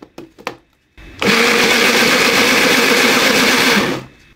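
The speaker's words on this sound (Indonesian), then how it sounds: "Blender hingga halus." A blender whirs loudly and steadily for about three seconds as it purees chopped pandan leaves with water, preceded by a few brief knocks and ending abruptly.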